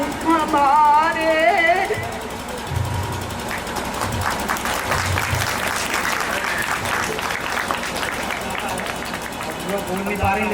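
Guests at a Haldi and Mehndi wedding ceremony break into steady applause, a dense wash of clapping lasting several seconds, preceded by a brief sung or spoken voice.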